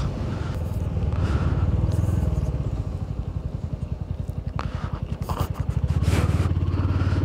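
A Royal Enfield Hunter 350 motorcycle on a road ride shows a close engine drone with rapid, pulsing exhaust beats that swell and ease as the throttle changes, over wind noise.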